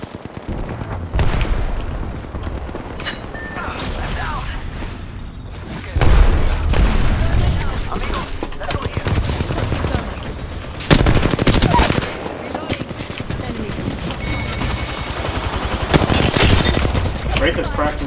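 Gunfire in the battle-royale shooter Apex Legends, with loud automatic bursts and heavy single shots cracking in quick succession. Sharp booms punctuate the sustained fire.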